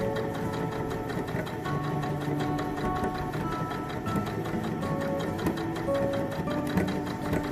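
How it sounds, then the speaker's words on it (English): A sewing machine runs steadily, stitching with a fast, even mechanical whir that hums continuously throughout. "So we're just going to sew around the outside edge of this."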